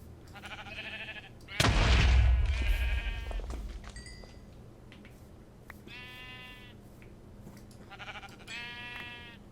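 Several sheep bleat in short, wavering calls in the video game GregTech: New Horizons, some overlapping, over a quiet background, with a sudden loud burst of noise early on.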